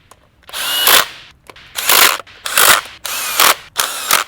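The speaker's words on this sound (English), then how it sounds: "now we can go ahead and snug all the bolts up nice and tight" Ratchet wrench snugging the bolts of a cover on a GM LS engine, with five bursts of rapid clicking cranks separated by short pauses, close and loud.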